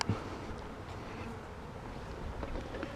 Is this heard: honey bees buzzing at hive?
yes